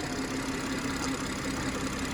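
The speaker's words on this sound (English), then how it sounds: "So the engine bay's all been cleaned" A BMW M240i automatic's engine idles steadily with a low, even rumble and faint knocking texture, close by and unbroken, with no voices.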